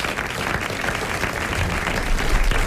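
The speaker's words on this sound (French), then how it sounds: "Monsieur Lambert d'Auchan a mérité vos applaudissements et 500 francs." On a French radio quiz show, a studio audience claps for a contestant who answered correctly: a dense, continuous wash of applause with no voices over it.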